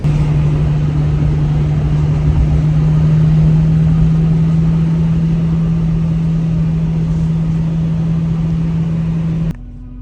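A failing fuel pump on a Volvo 240 gives a steady, loud, unchanging drone under the running car, continuous and close for about nine seconds before cutting off abruptly to a quieter hum.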